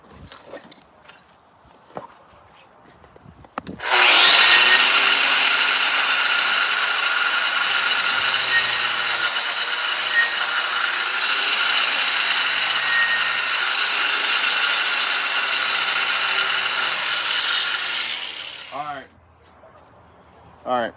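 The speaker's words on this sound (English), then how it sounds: "Now we're going to grind into it with a wire wheel." A wire wheel grinds a vertical 7018 stick weld in a steady, loud, high-pitched whirring rasp lasting about fifteen seconds, starting abruptly and spinning down at the end, with faint clicks before it.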